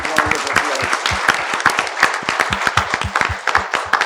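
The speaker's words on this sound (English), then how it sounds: "Please join me in giving them a big round of applause." Applause at a round table on nonlinear dynamics at IIT Madras, with a smaller group clapping in distinct, fairly close individual claps forming a brisk, uneven rhythm.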